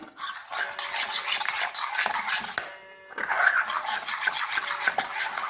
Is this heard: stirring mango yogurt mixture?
yes